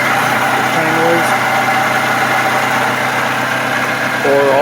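Worn water pump on a 2009-2018 Toyota RAV4 with the 2.5L engine, giving a steady rotating whir and hum over the idling motor, loud and close throughout with no talking.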